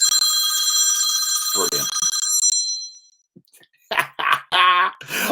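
A mobile phone rings loudly with a trilling bell ringtone that stops after a couple of seconds, followed by a cough and a brief spoken word.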